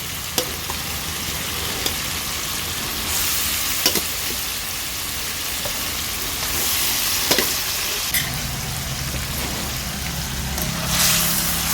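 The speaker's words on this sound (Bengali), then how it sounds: "এবার এতে আমি দিয়ে দেব লাউ, সেদ্ধ করে রাখা লাউটা দিয়ে দিচ্ছি" Boiled bottle gourd goes into a spice paste frying in a pan and is stirred: a steady loud sizzle throughout, with scraping spatula strokes and a thicker burst of frying sound as the gourd hits the oil.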